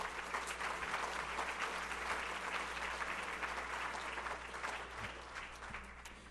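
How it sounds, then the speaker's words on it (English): A dinner crowd at a chamber of commerce event applauds: continuous, even clapping from many people, sustained without a break and with no talk over it. "show your applause."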